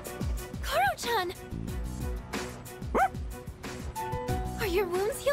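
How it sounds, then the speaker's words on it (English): A dog in the video game Persona 3 Reload barks and yips several times, with short whimpering rises between the barks, over game music and people talking. "Dog!"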